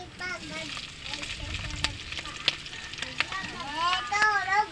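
Pieces of duck hitting a hot pan for adobo, breaking into steady sizzling and crackling frying with occasional sharp pops, while a voice talks over it.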